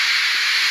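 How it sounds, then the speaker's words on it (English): A steam locomotive blows off steam, a loud, close, continuous hiss filling the whole moment with no other sound. "Henry still stayed in the tunnel and blew steam at him."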